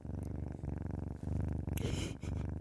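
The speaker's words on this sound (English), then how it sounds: "She's such a love fest, little purr ball." A kitten purrs close and steady in soft rhythmic waves of inhale and exhale, a low continuous rumble heard alone without talk.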